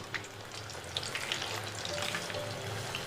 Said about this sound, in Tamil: பீஸை எடுத்து அப்படியே எண்ணெயில் இறக்க போகிறோம் பாருங்க